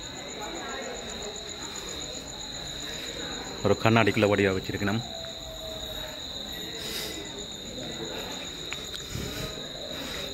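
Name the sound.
cicada or cricket chirping at a temple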